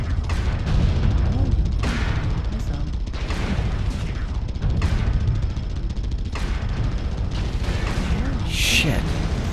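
Weapon fire slams into a player's mech in MechWarrior Online, a run of heavy booming impacts and blasts repeating roughly every second, loud and close, with a voice talking over the barrage.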